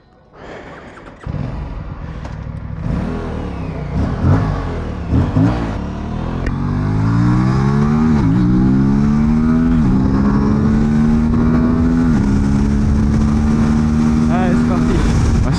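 An Aprilia RS457 motorcycle rides the Modena race circuit in Italy, its engine revving up through rising gear pulls with sharp shifts between them, loud and close, building into a sustained high-revving wail.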